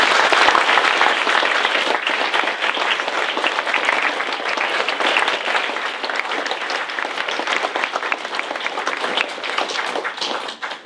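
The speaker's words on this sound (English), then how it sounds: "we certainly owe you a big applause" An audience claps for Vietnam veterans at a 2015 civic honoring in Willowick, producing dense, sustained applause that stays loud and even for about eleven seconds before tapering slightly at the end.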